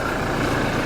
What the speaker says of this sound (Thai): อันนี้คือเสียงเครื่องยนต์นะฮะ